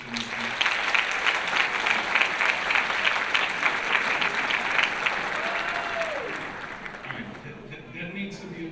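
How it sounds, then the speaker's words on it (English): An audience at a school district convocation breaks into sustained applause, a dense, loud wash of many hands that tapers off toward the end, with faint voices underneath. "just go ahead and clap for me right quick."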